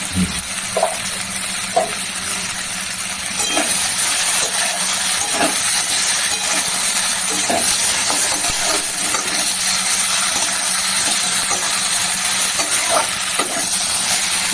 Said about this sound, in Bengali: মশলাটা কষানো হচ্ছে দিয়ে দিলাম